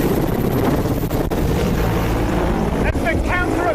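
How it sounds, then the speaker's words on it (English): Ukrainian attack helicopters flying low toward the front lines, a loud continuous rotor and engine roar with rushing wind buffeting throughout, with a voice briefly over it. "these Ukrainian attack helicopters are flying down to the front lines"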